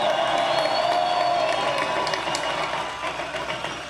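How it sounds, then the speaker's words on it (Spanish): Crowd in a public plaza applauding and cheering, a loud, broad roar of voices and clapping with occasional whoops, gradually easing off over a few seconds. "Jesús María Valle Jaramillo, para el cual pido un aplauso de esta plaza,"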